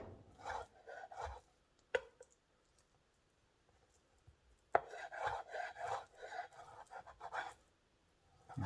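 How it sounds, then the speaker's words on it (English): Knife chopping strips of a sticky dough into small pieces on a board, heard as a few separate quiet taps and then a brisk run of close cuts after a pause. "Then you take some of the strips and turn them sideways and cut them using that claw into little pieces"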